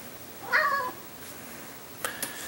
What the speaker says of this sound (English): Zoan Kitty's been a very good kitty.